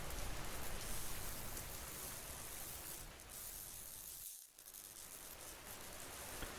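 Steady rain falling and pattering on a surface, a dense even wash of drops with a brief dip in the middle, fairly faint and with no voices.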